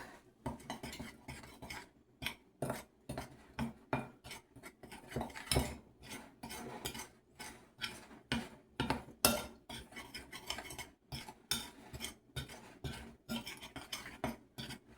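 Paprika seasoning mixed in a bowl for onion rings, rhythmic utensil scraping and clinking against the bowl in repeated bursts, fairly quiet and close, without talking.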